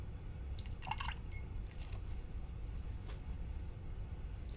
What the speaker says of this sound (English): I'm gonna wash my brush again